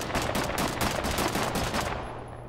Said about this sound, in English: I missed every single one of those shots.